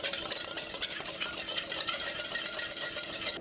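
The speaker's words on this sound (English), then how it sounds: "So I'm going to whisk this a little bit." A whisk beats salad dressing of oil, salt and pepper in a bowl, a fast, even, close rattling that runs without pause.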